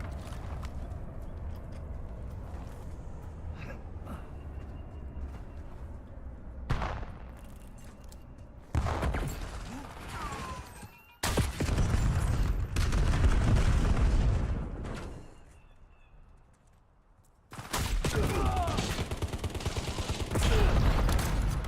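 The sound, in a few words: sniper gunfire in the video game Call of Duty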